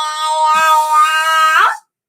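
A person imitates a cat's meow: one drawn-out, nasal, steady tone lasting nearly two seconds, rising and bending at the end before cutting off abruptly, loud and close with no other sound.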